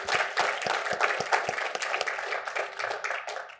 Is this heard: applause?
yes